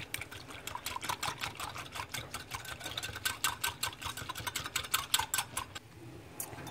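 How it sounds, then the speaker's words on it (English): Teriyaki sauce with sugar and honey whisked in a bowl, giving a fast, steady run of light scraping ticks close by, with no talk. "Whisk it all together."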